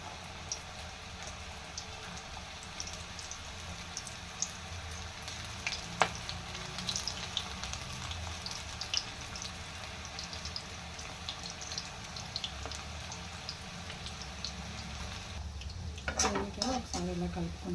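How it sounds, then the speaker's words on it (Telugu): Onion pakodas fry in hot oil with a soft, steady sizzle and bubbling, faint and continuous, joined near the end by a brief clatter of stirring. "ఆయిల్ హీట్ ఎక్కిపోయింది కదా. ఉల్లిపాయ పకోడా కూడా వేసేసుకున్నాం."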